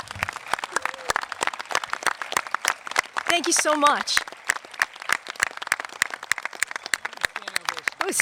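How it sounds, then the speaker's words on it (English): Scattered, uneven applause from an audience honoring enlistees at a North Jersey community salute, with individual claps distinct rather than a dense roar. A voice briefly speaks over the clapping. "Can I hear a round of applause for all of our Enlistees?"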